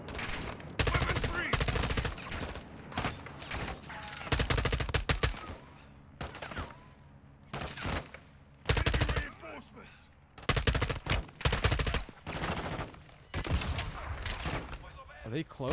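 Bursts of automatic and single-shot gunfire from a Call of Duty campaign mission come in dense, loud volleys with brief pauses, mixed with a player's voice talking between and over the shots.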